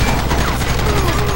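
A Gatling gun in Red Dead Redemption fires a dense, continuous stream of rapid shots, loud and close, with no talk.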